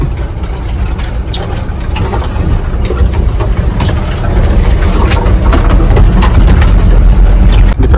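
A pickup truck being driven out to load timber, its engine running with a steady low rumble that grows slightly louder, heard up close and alone without talk.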